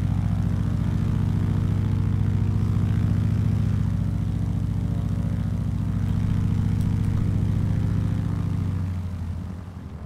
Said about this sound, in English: So the engine sounds on this are pretty good. It's got kind of like that clattering and burbling